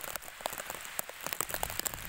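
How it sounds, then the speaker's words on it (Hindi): Rain falls outdoors at a dairy farm during a storm: a steady, dense patter with scattered sharper drops striking nearby surfaces, heard alone without voices. "आंखों में बारिश लग रही है"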